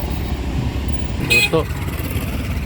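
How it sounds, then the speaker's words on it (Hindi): Jammed motorcycles and cars idle and crawl through a bazaar in Loralai, making a constant engine rumble. A short sharper burst rises over it, and voices are heard. "ट्रैफिक जैम, मोटरों की लेन लगी है"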